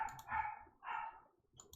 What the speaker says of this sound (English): Oh, hello, dog. Thank you for barking.